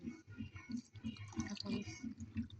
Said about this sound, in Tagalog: buhos na natin ang sabaw at pinakuluan natin ng manok.